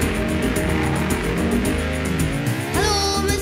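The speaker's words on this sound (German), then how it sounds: "meinen Motor an und rase auf der Autobahn" A car engine racing on the Autobahn, roaring steadily and then revving upward near the end, loud and close within a German children's song.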